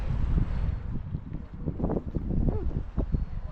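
Steady strong wind buffeting the microphone, a continuous low roar with gusty rumbling throughout.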